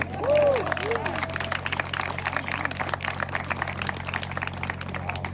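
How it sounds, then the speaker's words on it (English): An audience applauding at an outdoor street renaming ceremony, a moderate spread of clapping that continues steadily after a brief voice at the start. "Give her another round of applause."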